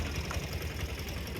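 Auto rickshaw engine idling on Kavaratti island in Lakshadweep, a steady low rumbling putter with constant mid-frequency chatter, close and continuous with no voices.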